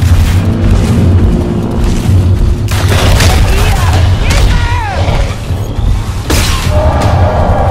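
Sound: gunfire hitting the player in the video game Evolve

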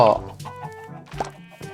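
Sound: chickens clucking in Minecraft video game

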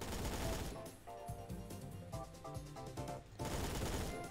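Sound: gunfire from a machine gun in the video game Phantom Forces

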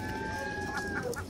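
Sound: seagulls calling at Valdez dock

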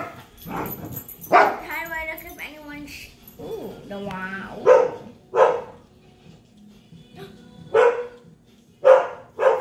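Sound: dog barking while playing

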